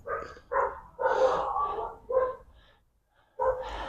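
A six-week-old puppy gives a series of short, high, yappy barks close by, five separate bursts with brief pauses between them.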